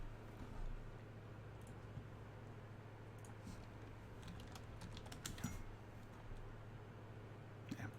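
Fingers tap quickly on a computer keyboard during a commander card game, a faint, scattered run of clicks over low room hum with no talk.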